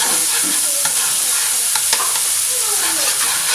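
Garlic cloves sautéing in a pan for beef ragu give a steady, close sizzle with occasional stirring scrapes throughout, and no voices.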